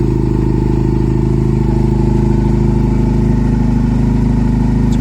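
A Honda CB400 Super Four motorcycle engine idles at close range, holding a steady, loud, even four-cylinder burble with no pauses and a faint clatter running through it.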